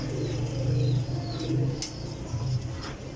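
Desi flying pigeons coo in low, repeated throaty rolls close by, several overlapping calls under faint background hiss.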